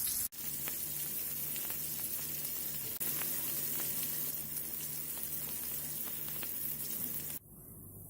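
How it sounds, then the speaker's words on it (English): Chickpea nuggets shallow frying in oil in a hot pan give a steady, close sizzle with crackling pops, continuous for several seconds before cutting off abruptly. "Shallow fry the nuggets till they are lightly colored on the outside."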